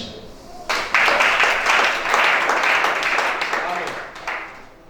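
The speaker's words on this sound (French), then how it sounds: "Acclamez." A church congregation breaks into loud, sustained applause that starts suddenly and fills the room, then slowly tapers off.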